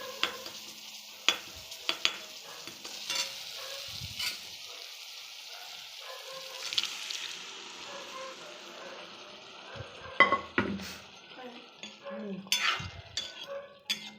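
Cooked green mung beans are stirred and fried in a pan, with a soft steady sizzle. A utensil scrapes and clinks against the pan in irregular strokes, up close.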